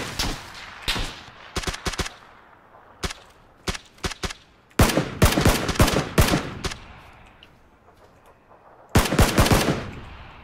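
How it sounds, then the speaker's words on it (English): Gunfire rattles through a PUBG match in rapid automatic bursts, some sparse single shots, then two loud sustained volleys, close and punchy with no voices over it. "I got shot, Rise."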